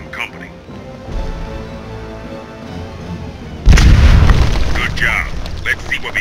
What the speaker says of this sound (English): That explosion will sure attract some company.